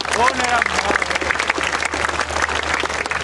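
Congregation clapping during a church healing service in a sports hall, a dense burst of applause mixed with voices and singing-like tones, steady and fairly loud throughout.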